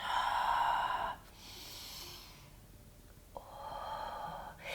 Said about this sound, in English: And let's take a breath in and take a breath out.